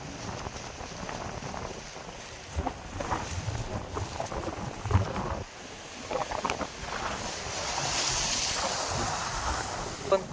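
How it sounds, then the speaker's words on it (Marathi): Wind blowing over the sea at Kashid jetty during rising tide, a steady rushing roar with surging gusts and washing surf that swells louder toward the end. "पण वार आहे."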